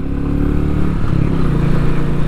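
A 2021 Royal Enfield Meteor single-cylinder motorcycle engine thrums loudly and continuously up close, with a steady, throbbing low rumble while riding.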